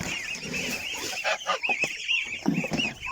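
A mixed farmyard flock of geese, ducks, turkeys and chickens at feeding time, a dense chorus of honks, quacks and clucks overlapping continuously at close range, with a few louder bursts toward the end.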